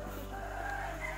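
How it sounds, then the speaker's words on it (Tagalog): Chicken vocalizing close by in a brief, steady burst of clucking, heard alone without talk. "Manok."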